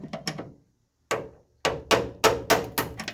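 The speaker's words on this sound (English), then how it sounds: "I just want to see whether or not we can tap out that clip, as you do." A small ball peen hammer taps at a brake clip under a car during a disc brake install: a quick triple of light metallic knocks, a pause, then a steady series of sharper, louder strikes, close up.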